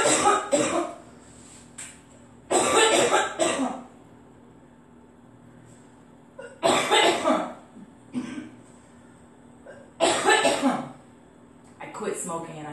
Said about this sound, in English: I quit smoking and I cough more.